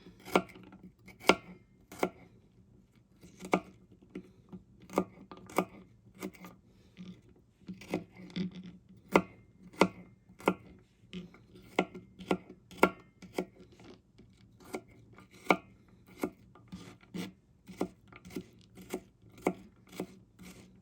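A knife cuts up vegetables for fermented salsa on a board, making a long run of crisp, close chopping taps at an uneven, unhurried rhythm with no talk.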